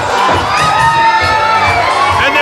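A loud wrestling crowd at a tag team match cheers and shouts continuously, with high-pitched yells and whoops swelling in waves across a dense arena roar.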